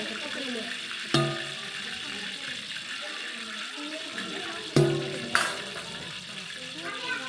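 Soft sizzling and crackling of soya chunks frying in oil, steady throughout, with a few sharp pops and splashes; faint voices murmur in the background.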